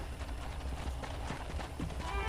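Horses in a corral in Red Dead Redemption, with a run of hoof clip-clops over background ambience and occasional soft voices.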